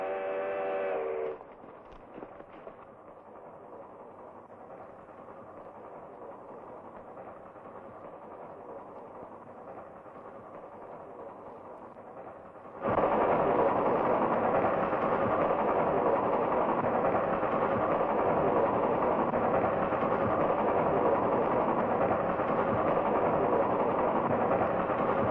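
A train on a rail line rumbles steadily at low volume, then its engine noise swells abruptly into a loud, broad, continuous roar as it draws near around a bend, with no voices.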